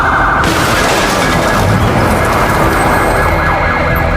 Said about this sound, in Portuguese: tocou a sirene e avançou com o carro